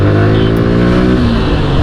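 A Suzuki Gixxer motorcycle pulls hard while being ridden in low gear, its loud, close engine drone rising slightly in pitch as it accelerates, with no talk.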